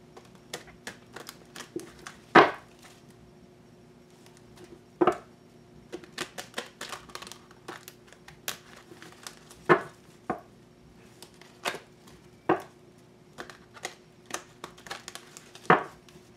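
Tarot cards are shuffled in scattered close riffles and taps, with intermittent sharp snaps of cards against each other and a quiet hum underneath.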